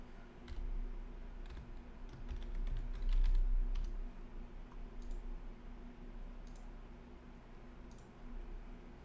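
Typing on a computer keyboard during an online card game session, a run of quiet, close key clicks in loose irregular bursts, some clustered quickly and others spaced apart, over a low steady background hum.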